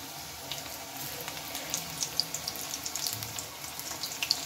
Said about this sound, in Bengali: বেশ লাল ভাবে এগুলো ভাজাও হয়ে যাচ্ছে